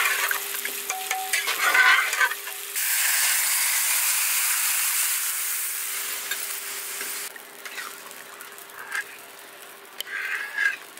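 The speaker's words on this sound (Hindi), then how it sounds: "तो तड़का देख रहे हैं कितना अच्छा से भून गया है" Dal tadka of onion, tomato and spices sizzles and fries in a pan, with stirring scrapes up front, then a loud sustained hiss of frying that gradually eases, close and with no talking.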